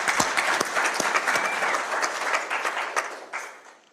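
Audience in a room applauding during a community conversation event, a full burst of many hands clapping that holds steady, then fades out toward the end.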